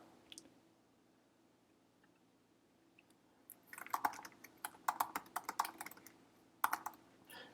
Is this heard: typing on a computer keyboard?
yes